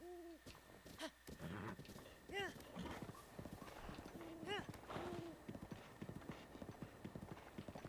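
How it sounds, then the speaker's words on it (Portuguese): Horses trot through the open world of Zelda: Breath of the Wild on Nintendo Switch, a steady clip-clop of hooves with brief whinny-like calls, while someone talks over the game sounds. "ali tem alguns cavalos."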